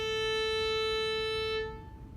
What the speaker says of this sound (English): an A that vibrates at 440 hertz will be caused by sound waves that vibrate